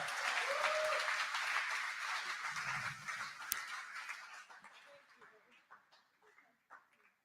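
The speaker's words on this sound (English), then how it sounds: "Let's give them a round of applause." A room of people applauding mothers at a Mother's Day church service, a loud burst of clapping with some cheering that thins out into scattered, fading claps by the end.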